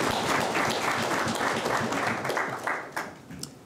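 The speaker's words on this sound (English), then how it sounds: "A round of applause." An audience at a national youth parliament session applauds, a dense burst of many hands clapping that holds steady and then thins out toward the end.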